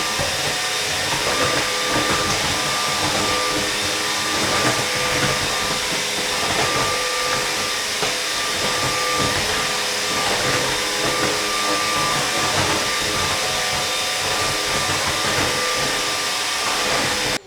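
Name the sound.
LEVOIT cordless vacuum cleaner running on bathroom tile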